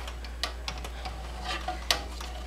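Hand stirring of an oil and potassium hydroxide mixture for cold process liquid soap, giving soft scattered scrapes and light clinks at an uneven pace over a steady low hum, fairly quiet.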